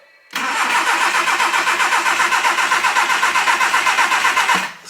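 A Triumph Spitfire engine cranks and fires, settling into a steady, pulsing idle that holds close and loud for about four seconds before shutting off, with the oil pump running.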